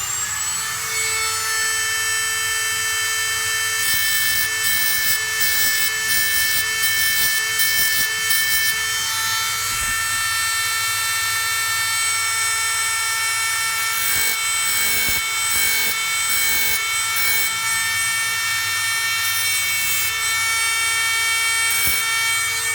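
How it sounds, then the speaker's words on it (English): A Dremel grinds the end of a spinning Scalextric slot-car motor shaft, a continuous high-pitched whine with a buzzing undertone and repeated gritty bursts of contact, close and loud throughout. "bevel the sides and the front face whilst the motor's turning with your angle grind, with your Dremel."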